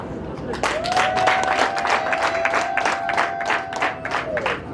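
Applause from wedding guests, steady dense clapping under a sustained melodic tone and crowd noise, loud and continuous throughout.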